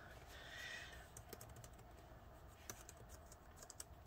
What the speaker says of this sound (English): I was typing the password off screen